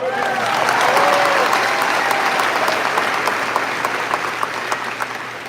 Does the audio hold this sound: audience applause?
yes